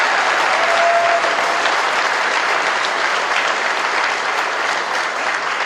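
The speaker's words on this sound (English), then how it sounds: "let's give him a big round of applause" Audience applause for Joe Khalil at a Day of Resistance rally in Boone County, Kentucky: dense, loud clapping from a room of people, sustained evenly throughout.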